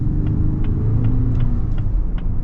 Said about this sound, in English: Well, let's get a little acceleration here.